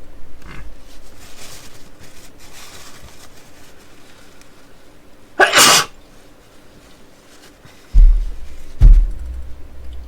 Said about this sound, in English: Of course I gotta sneeze.